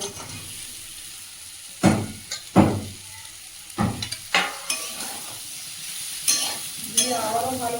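Pre-fried young jackfruit pieces go into a well-cooked spice masala in a pan, giving a steady frying sizzle broken by several loud scraping stirs and splatters, each one sharp and close.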